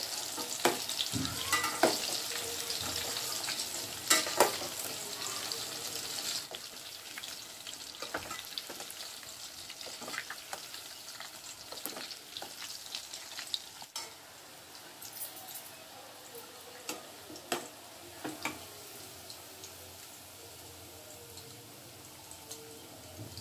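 Chicken 65 pieces deep-fry in oil over a medium flame, giving a soft, steady sizzle dotted with faint bubbling crackles and occasional stirring clicks.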